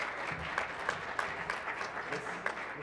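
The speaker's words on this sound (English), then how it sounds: "Can we give Alyssa a round of applause and all of her work and her team's effort?" An audience at a lecture applauds steadily, many hands clapping in a dense patter with a few distinct claps standing out.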